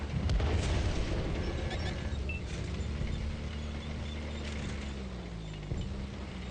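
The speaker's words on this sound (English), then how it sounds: "Artillery's focusing me out." Low booming artillery fire rumbles through a video game battle, heavy low-end blasts and a sustained deep drone under scattered thuds, loud and continuous with no talk.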